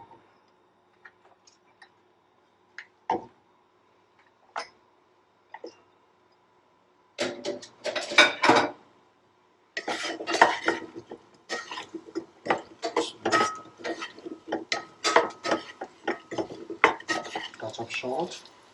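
Cauliflower pieces tumble into a pan with a touch of olive oil, opening with a few light clinks, then a dense run of close metallic clattering, scraping and crackling.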